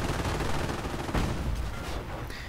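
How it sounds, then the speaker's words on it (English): Video game battle of Fireflies, Cromwell tanks and Panzerschreck and PIAT infantry firing on a Panzer IV: dense, continuous rumbling gunfire and explosions blended into a loud wash, with one heavier blast near the middle. "Fireflies, Panzerschrecks, Piets, Cromwell, all moving in, firing away at the Panzer IV."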